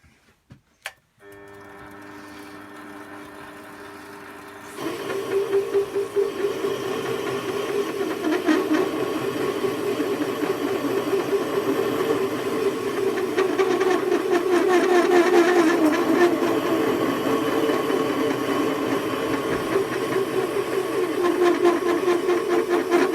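A Warco metal lathe spins up and parts off a steel bar, a steady whirring machine drone with a faint chattering grind that holds continuously and grows slightly louder midway.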